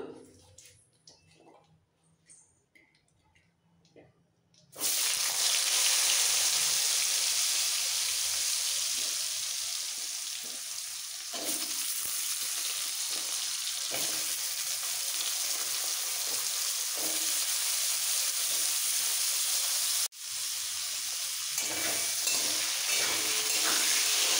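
Washed potatoes hit hot oil with spices for an aloo phulkopi masala fry, then sizzle and fry loudly and steadily at close range, with no voices over them.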